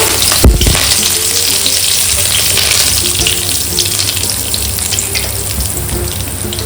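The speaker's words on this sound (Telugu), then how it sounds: "ఆవాలు వేస్తున్నా హాఫ్ టేబుల్ స్పూన్ జీలకర్ర కరివేపాకు" Mustard seeds, cumin and curry leaves drop into hot oil for mango pickle tempering, a loud dense sizzle that bursts at the start and then crackles steadily throughout, close up and without speech.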